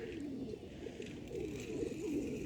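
Pigeons coo steadily in a small city square on Skorulskoho in Zhytomyr, a dense, continuous layer of soft, rolling calls close by with faint town ambience behind.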